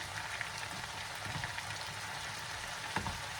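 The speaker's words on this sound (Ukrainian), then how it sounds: "дам ще трошки йому підсмажитися м'ясу" Steady sizzling of meat frying in a pan, a continuous crackling hiss with occasional louder pops, no voices.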